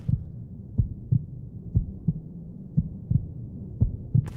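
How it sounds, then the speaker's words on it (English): Game heartbeat effect from The Witcher 2: a steady, muffled low double-thump pulse repeating about once per second over a faint hum, with no talking. "why do we have a heartbeat sound?"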